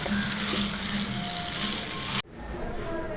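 Oil bubbling and sizzling steadily in a pan as kali (a millet or grain porridge) cooks, close and fairly loud, cutting off abruptly toward the end to a quieter low rumble.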